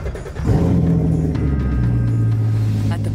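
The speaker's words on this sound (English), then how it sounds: "Go ahead and start the engine." A race car engine on an arrow car driven by a quadriplegic racer starts and settles into a loud, deep, steady rumble close by.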